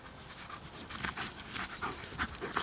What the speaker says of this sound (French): Regarde le gros chien, lui.